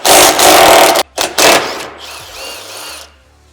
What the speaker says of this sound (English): Next thing you'll do is remove your factory cage bolts.